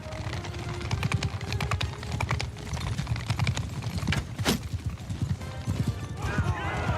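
Demigriff mounts running in a fantasy battle video game, a dense rapid drumming of hooves and clattering footfalls mixed with combat noise, sharp clicks and a brief whinny-like cry near the end.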